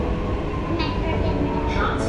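A metro train at Charbagh metro station produces a loud, continuous rumble and rolling drone that fills the space from start to finish without a break.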